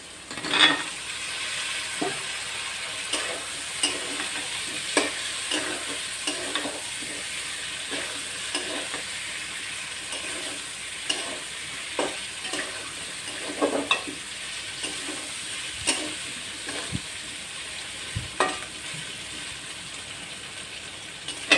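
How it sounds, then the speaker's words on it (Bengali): Green banana frying in a pan and stirred over and over with a spatula, giving a steady sizzle with frequent scrapes and taps of metal on the pan through the whole stretch. "বারবার খুন্তি দিয়ে ঘুটাতে হবে আর এরকম ভাজতে হবে।"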